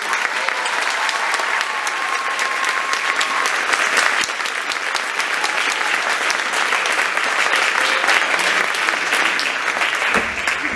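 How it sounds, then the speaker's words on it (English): A holiday concert audience applauds at length, a dense, even roar of clapping that holds steady for about ten seconds, with faint whistles early on and a brief voice near the end. "one more round of applause for everybody"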